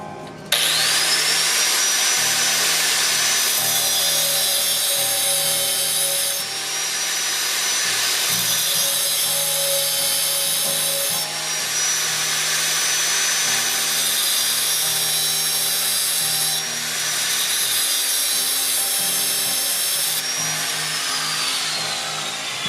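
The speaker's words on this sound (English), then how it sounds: "I'm going to put some little lines right here and right here with my grinder." A grinder cuts detail lines into a San Mai Damascus skinner knife blade, a loud, steady, high whine that rises and dips in several long passes.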